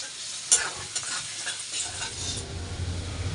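Garlic frying in oil in a pan gives a steady, close crackling sizzle, broken by a sharp utensil clink and soft stirring scrapes, with a low rumble entering near the end.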